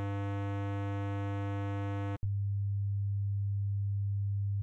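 Two sustained electronic alarm-style tones play back to back, the first a bright buzzy tone rich in overtones for about two seconds, then after a tiny gap a duller low hum that continues steadily to the end.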